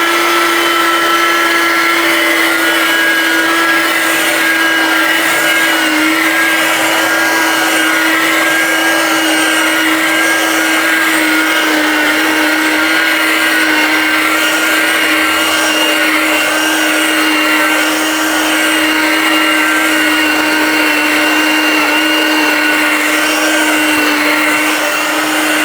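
A Ryobi 18V ONE+ hand vacuum with its motorized brush head runs loud and steady, a constant high whine with a faint rattle of the brush, unbroken from start to finish with no talk.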